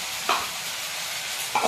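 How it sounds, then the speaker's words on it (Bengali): Spice paste of tomato, onion and ginger-garlic is stirred in a wok, with two quick scraping strokes over a steady background sizzle. "একটু নেড়ে নিই।"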